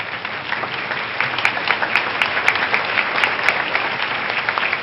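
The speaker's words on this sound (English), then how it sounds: "May I now ask all the parents and families to stand up to receive a big round of applause from the students." Sustained applause from the assembled students in a school hall at a speech day, honouring standing parents and families; dense, steady clapping throughout with a few sharper claps standing out.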